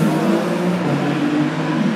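A Citroën C2 drifting produces a loud, sustained engine roar with a steady droning tone, heard at close range from outdoors for a couple of seconds with no speech.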